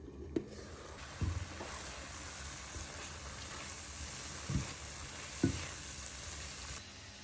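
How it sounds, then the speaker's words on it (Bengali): Milk halwa mixture frying in a pan over raised heat, a quiet steady sizzle broken by a few soft scraping stirs of the spoon, with no voices. "এই পর্যায়ে আমি চুলার আঁচটা বাড়িয়ে দিয়েছি মানে আটে নিয়ে গিয়েছি আর এটাকে আমি এখন ভাজা ভাজা করে ফেলবো"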